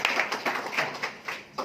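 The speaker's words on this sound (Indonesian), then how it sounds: "tepuk tangan untuk Pak Yogi" Audience in a community meetup hall clapping for Pak Yogi, a brief burst of fairly quiet, rhythmic hand claps with distinct peaks, heard mostly alone.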